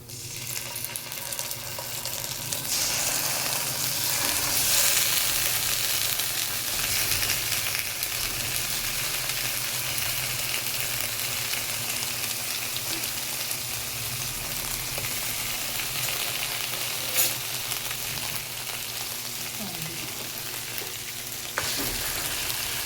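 Corned beef frying in a pan for breakfast, a steady broadband sizzle with occasional stirring scrapes, close and fairly loud throughout, no talking.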